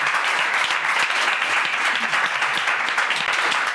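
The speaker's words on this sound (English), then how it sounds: "Big round of applause, guys." Steady, dense applause from a crowd, many hands clapping continuously and loudly throughout with no pauses.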